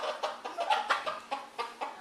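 A chicken stuck inside a garage clucks in quick, rhythmic bursts, close and fairly loud, with no talking over it.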